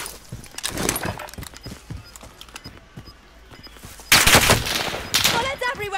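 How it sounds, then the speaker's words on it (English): Rapid video game gunfire in a multiplayer shooter, dense bursts of bullets crackling in quick succession, growing louder and heavier near the end with chaotic layered shots. "Bullets everywhere."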